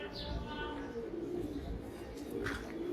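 Soft, low cooing from a twelve-year-old Silver Bezi pigeon, quiet and somewhat distant, with a few faint chirps over a murmuring background.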